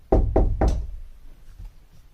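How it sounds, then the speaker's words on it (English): Three firm, evenly spaced knocks on a wooden door, close and distinct, followed by quiet. "Suddenly, there was a knock at his door."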